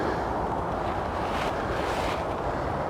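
Wind gusts through a woodland camp kitchen, a steady roaring rush that buffets the microphone and holds at a constant level for the few seconds, with no other sound standing out.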